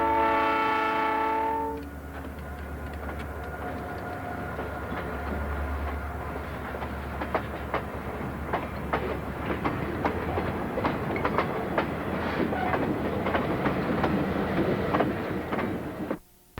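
A Southern Pacific train with locomotives at each end runs along the track, opening with a loud horn blast before steady rumbling and rhythmic clickety-clack of wheels over rail joints dominate, close and continuous.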